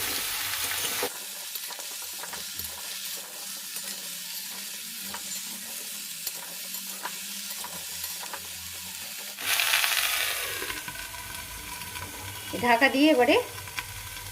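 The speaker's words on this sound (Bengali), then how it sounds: "ঢাকা দিয়ে দিয়েই ভাজবো আর কি সব জিনিসটাকে।" Pumpkin with potato, radish and other winter vegetables frying in a pan over low gas. A steady close sizzle comes with scraping stirs, and the sizzle flares louder partway through.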